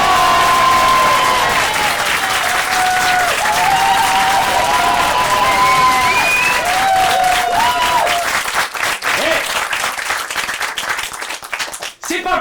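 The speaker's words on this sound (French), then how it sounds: "Je compte jusqu'à 3, et à 3 on applaudit." A studio audience breaks into loud, sustained applause on a counted cue during a Paris stage show, the clapping steady for about eight seconds before thinning into scattered claps, with voices heard underneath.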